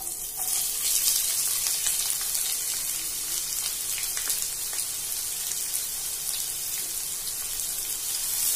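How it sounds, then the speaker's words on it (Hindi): Sliced onions frying in spices in a pan for soya pulao make a dense, even hiss and sizzle that runs loud and continuous throughout, with faint crackles and no talk. "चला लेंगे प्याज को"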